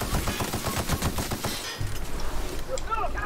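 Rapid gunfire bursts crackle in the sci-fi shooter The Outer Worlds, a dense close stream of shots for over a second, then quieter game sounds take over.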